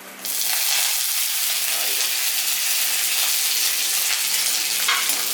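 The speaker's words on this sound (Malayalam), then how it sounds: "നമുക്കൊന്ന് കടുക് പൊട്ടിച്ചെടുക്കാം" Mustard seeds, urad dal and curry leaves hit hot oil for a sweet potato chutney, bursting into a loud, dense, continuous sputter and hiss that starts abruptly and holds steady.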